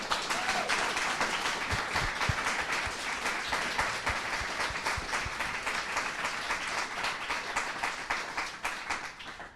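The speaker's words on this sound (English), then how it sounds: "let's give a round of applause to our panel, shall we?" Sustained audience applause after a discussion panel on women in agriculture and STEM, steady dense clapping that holds for about nine seconds before easing slightly at the end.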